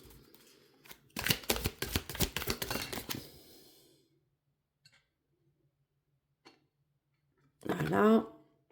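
Tarot cards shuffled in a rapid run of close riffling snaps, then a pause and a brief rustle as a card is laid down, with a voice speaking quietly in French around them.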